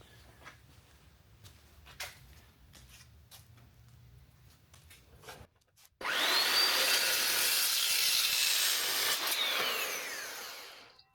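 An Evolution chop saw cuts a piece of metal for a welding water-table frame, starting abruptly after quiet shop sounds with a loud, sustained bright screeching roar for about five seconds before winding down.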